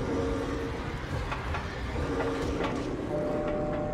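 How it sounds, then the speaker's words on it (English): Tram arriving in the video game Dead Space 3: a continuous mechanical rumbling and clattering rail sound, steady and fairly loud, with faint tonal hums layered over it. "Tram's here!"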